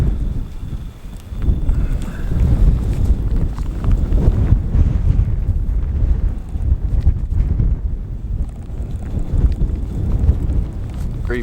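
Strong cold wind buffeting a microphone outdoors in Alaska, a loud continuous low rumble with gusty swells and no talking.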